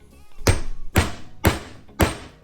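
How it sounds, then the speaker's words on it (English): A hammer strikes poured .999 silver bars four times at an even pace, each blow a sharp, loud, close metallic thud with a short ring-off, no talking. "as I'm swinging that hammer and moving through it"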